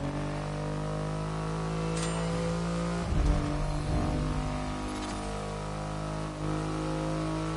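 A Triumph Rocket 3 motorcycle with a 2.5-liter engine in the racing game The Crew Motorfest, rumbling steadily under a low idle, then revving harder midway before settling back, close and alone.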